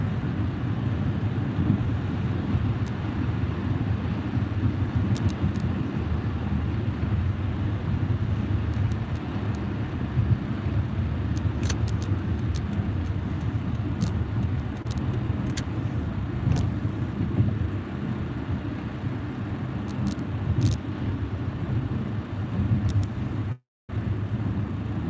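Car cruising on a freeway running from Henderson toward Las Vegas in fall rain, steady road and engine rumble with tire hiss throughout, briefly cut out near the end.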